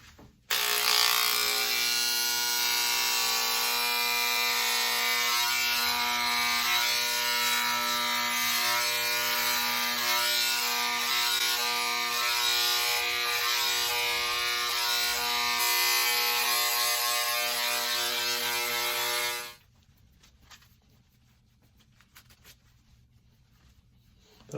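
Electric hair clippers buzz steadily while cutting hair during a home haircut, a loud, close, constant hum lasting about twenty seconds before stopping abruptly, leaving near silence.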